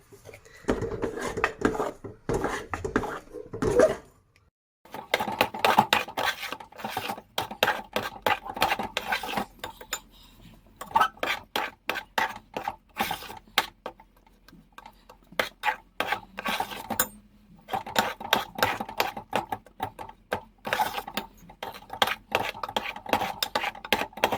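A spoon stirs and scrapes through a thick mixture of gram flour and sugar syrup for Sindhi Maisoo, giving close, repeated raspy rubbing strokes in an irregular rhythm with short pauses between bursts.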